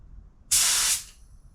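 A single close burst of clear coat from an LVLP spray gun, a broad loud hiss lasting about half a second, then cutting off, with no talking over it.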